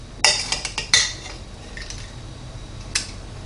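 A knife cuts smoked filet mignon into bite-sized pieces, giving a quick run of sharp clinks and taps against the plate early on, then one faint clink later over quiet background.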